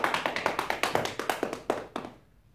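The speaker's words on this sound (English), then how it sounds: "And open the palms and clap." Open palms clapping during a qi gong Eight Pieces of Brocade exercise, a quick steady series of about a dozen crisp, close claps that slows and fades to near silence at the end.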